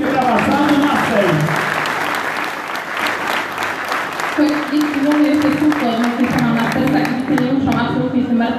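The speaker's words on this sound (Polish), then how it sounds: "Poślijmy mu również wielkie, wielkie brawa, Sam Mastersa." Crowd applause from a large audience at a speedway team's season presentation in Ostrów Wielkopolski, steady dense clapping throughout with an announcer's voice speaking over it.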